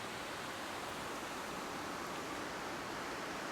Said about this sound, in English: you can hear waterfall on both sides